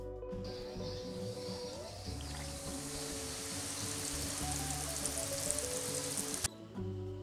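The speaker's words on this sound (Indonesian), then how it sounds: "Goreng sisanya hingga habis." Mie lidi stick noodles frying in hot oil give a steady, fairly quiet sizzle over a low background hum, running for about six seconds before cutting off abruptly.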